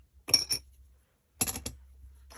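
Metal scissors from a pile of fourteen pairs clink against each other on a cluttered craft desk, two short bursts of close, bright jangling separated by a pause.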